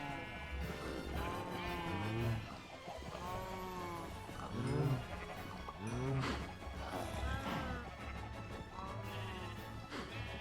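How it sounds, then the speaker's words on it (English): Minecraft cows give several long, low moos one after another, spaced a second or two apart, near and fairly loud over a steady in-game backdrop. "These cows."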